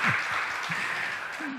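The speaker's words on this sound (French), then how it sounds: "Sous vos applaudissements, bien sûr." Audience applause for a band member at a live French music show, a dense steady wash of clapping lasting under two seconds with faint voices mixed in.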